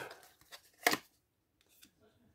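A deck of tarot cards being cut and handled at a table, with quick papery riffles and a sharp slap of cards, then soft shuffling, close and quiet.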